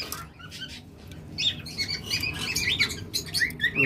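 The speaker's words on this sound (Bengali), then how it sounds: "এই পাখিটা দেখতেছেন চমৎকার একটা অপালেন জোড়া একদম ক্লিয়ার হেড" A pair of opaline pet birds chirps and tweets in quick, bright bursts that grow busier partway through, close by and with no voices.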